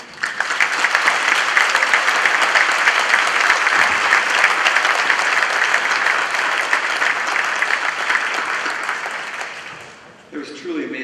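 Sustained applause from a ceremony audience thanking a concert band at a Veterans Day event, a steady dense wash of clapping for about ten seconds that fades as the clapping ends.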